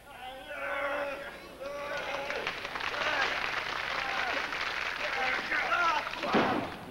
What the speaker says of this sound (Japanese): 館内からも拍手が湧いている